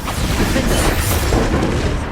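A Bombarda spell explodes in Hogwarts Legacy, a loud, dense rumbling blast that fills the brief moment with sustained crashing boom.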